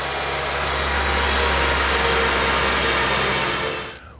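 Engine idling in a 2004 Honda Element while the steering is turned lock to lock, a steady loud whirring drone with a faint power-steering whine, cutting off sharply near the end.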